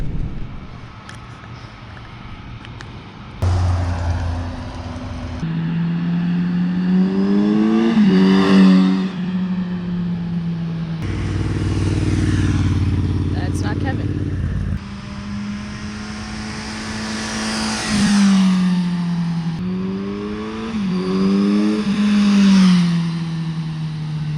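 A 2021 Kawasaki Z900 RS Cafe inline-four motorcycle pulls hard under throttle, its engine note rising and falling through several loud, close acceleration runs with gear changes between them, and no talking.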